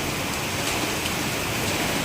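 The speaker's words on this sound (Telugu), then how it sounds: "వాన అయితే ఫుల్ దంచి కొడుతుంది." Heavy rain pours down in a village, a loud, dense, continuous hiss of falling water with scattered drop impacts and no break.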